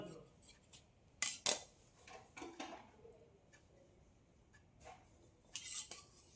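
Scissors snipping through blouse fabric along a marked straight line, a few crisp close cuts in short bursts with quiet pauses between, no talking.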